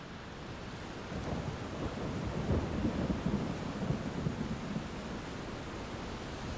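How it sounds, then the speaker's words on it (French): Heavy rain pours steadily over a town square, a dense close hiss, with low thunder rumbling and swelling through the middle, no voices. "Des cataractes d'eau s'abattent sur la place Saint-Étienne, ponctuées de coups de tonnerre."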